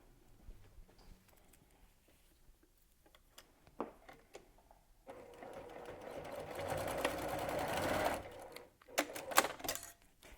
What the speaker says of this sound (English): you're going to just top stitch this into place